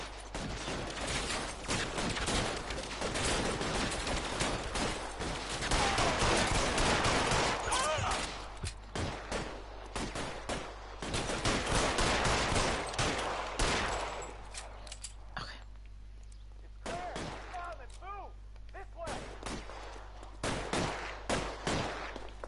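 Rapid bursts of gunfire crackle repeatedly, single shots and automatic volleys, with quieter gaps and a low steady hum underneath.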